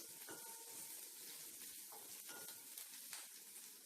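Small onions frying in a pan for Tamil tomato kulambu, a steady soft sizzle with faint stirring scrapes, continuous and close throughout.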